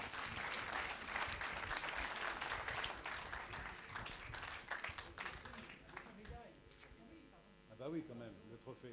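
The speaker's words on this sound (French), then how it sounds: "On vous applaudit." An audience applauds at an editorial prize ceremony for articles aimed at general practitioners, with steady, dense clapping that fades over several seconds as voices start talking.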